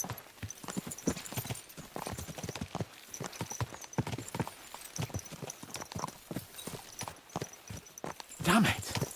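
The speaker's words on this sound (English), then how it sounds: "Let's really spur these horses on, eh?" Horses gallop in Kingdom Come Deliverance 2, their hooves drumming in a quick, steady clip-clop rhythm, close and distinct, with a snort or whinny bursting out near the end.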